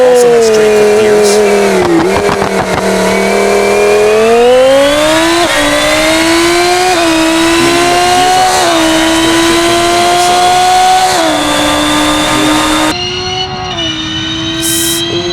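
A loud race car engine with straight-cut gears roars and climbs in pitch as it accelerates through gears, with a brief dip and rise, close and continuous.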